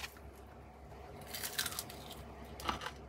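A few crisp crunches from bites into hot wings, up close and fairly quiet, with no talking.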